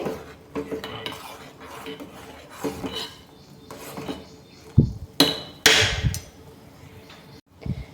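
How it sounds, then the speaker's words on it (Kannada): A spoon stirs boiling flax seed gel in a pot, clinking and scraping against the metal in irregular knocks and rubs, with a few louder clatters near the end. "ಸ್ಪೂನಲ್ಲಿ ಈ ಥರ ನೀಟಾಗಿ ತಿರುಗಿಸ್ತಾ ಇರಬೇಕು"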